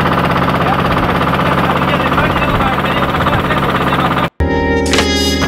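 A tour boat's engine in Angelmó, Puerto Montt, running loudly with a steady rattling, knocking drone that fills the clip, briefly cutting out near the end before a sharper, clattering tone resumes.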